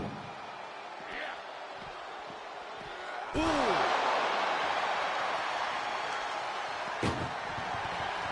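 Ambulance door in the WWE 2K25 video game slammed hard during a wrestling match, one loud crashing bang with a ringing metallic tail and a second sharper hit later, over steady crowd noise and commentary.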